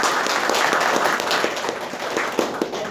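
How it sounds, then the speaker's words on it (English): An audience applauds, a dense burst of many hands clapping steadily throughout, fairly close. "Let's clap for every woman."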